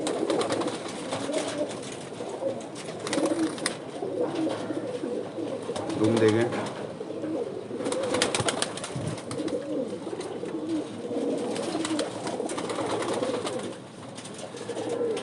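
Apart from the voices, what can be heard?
pigeons cooing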